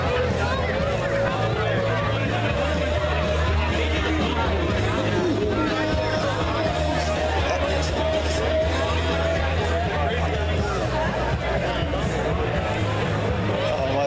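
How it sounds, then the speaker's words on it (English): Dense crowd murmur fills the Grove as people gather for a tailgate party, a steady wall of overlapping voices and babble lasting throughout, moderately loud and continuous with no single voice standing out. "You can hear the buzz everywhere, the murmur through the groves here."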